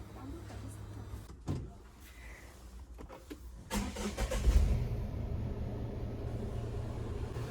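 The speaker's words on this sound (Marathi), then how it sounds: "मग सुरुवात करू रोटरला" A tractor engine starts up and settles into a loud, steady running rumble for work with a rotavator, preceded by clunks and mechanical handling sounds.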